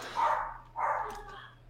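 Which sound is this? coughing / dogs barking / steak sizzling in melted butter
dogs barking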